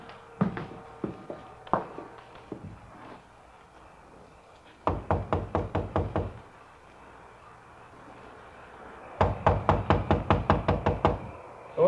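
Knocking on a door as a radio drama sound effect, with quick rhythmic knocks in three bursts, a few scattered knocks, then a run of about six, then a longer run of about ten, all close and sharp.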